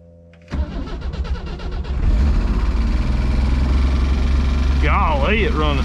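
The engine of a 1964 Rambler American wagon, unrun for 26 years, cranks briefly, catches and settles into a loud, steady rumbling idle close by, with a voice briefly heard near the end.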